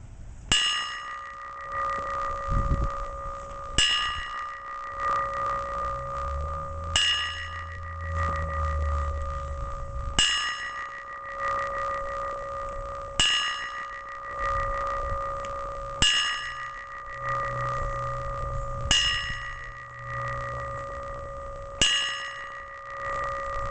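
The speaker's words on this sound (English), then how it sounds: "Please share a moment of silence before the tolling of the bell." A memorial bell tolls at a September 11 color guard ceremony, struck eight times at slow, even intervals, each ringing strike leaving a long sustained hum that decays into the next, with faint background shuffling and no talk.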